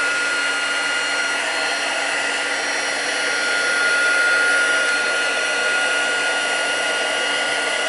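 A craft heat tool switched on and warming up, a steady loud whirring fan and heating hiss running continuously and close without a break.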